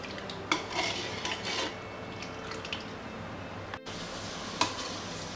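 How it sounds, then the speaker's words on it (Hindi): A spoon stirring jelly crystals in a bowl to dissolve them, faint scraping and light clinks against the side at irregular intervals over a quiet background, with no speech. "और हम इसको अच्छे से मिला देंगे, ताकि जो जेली है, क्रिस्टल्स हैं इसमें, वो इसमें अच्छे से"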